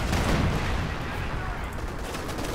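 Dense bursts of gunfire crackle in a Company of Heroes 2 battle as crawling medics are finished off, loud and continuous with rapid overlapping shots.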